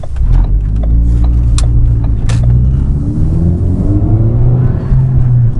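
A Ford Focus ST's Borla catback exhaust rumbles deep and loud as the engine revs up under part-throttle acceleration, the droning pitch rising steadily, heard from close inside.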